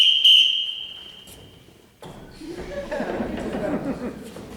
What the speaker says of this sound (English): I can answer to a whistle.